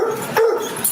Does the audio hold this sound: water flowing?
no